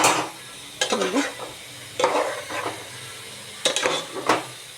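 Fried eggs are stirred into curry gravy in a pan for egg curry, a spoon scraping and clinking against the metal in three separate bursts over a soft, steady sizzle.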